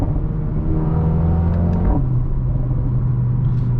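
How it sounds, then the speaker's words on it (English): Mercedes-AMG A35 accelerating hard with a loud, steady engine rumble, broken near the midpoint by a sharp bang from the gearbox on an upshift, after which the engine drone resumes at a lower pitch. "when you upshift, you get this like a bang from the gearbox"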